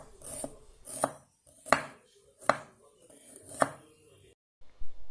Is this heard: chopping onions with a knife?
yes